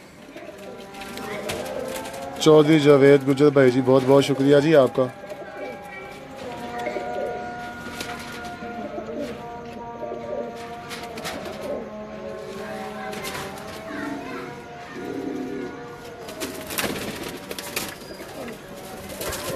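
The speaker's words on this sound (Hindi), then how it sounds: "ये टैडी कबूतर है जी" A Teddy pigeon on a rooftop loft gives a loud burst of cooing close by, followed by someone talking over softer bird sounds.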